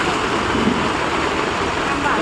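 Heavy rain pours down in a steady, dense hiss that holds at an even loudness for the whole stretch, with no clear break or lull.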